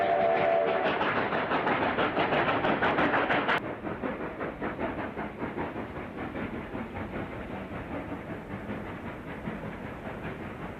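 A Rio Grande narrow gauge steam train runs past at Windy Point, rhythmic exhaust chuffs and clanking that are loud at first, then drop in level and continue steadily at a distance.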